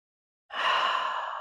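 A single deep breath during hatha yoga practice, one long audible exhale that starts after a brief silence and holds steady, close and clear.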